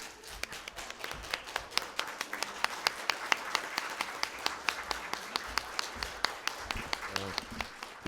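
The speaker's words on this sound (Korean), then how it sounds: "우리 이현숙 회장님한테 다 기립박수를 한번 했으면 좋을 것 같습니다." Audience at a hospital pharmacists' conference gives a standing ovation, a dense, steady patter of many hands clapping throughout, with sharp individual claps standing out near the front.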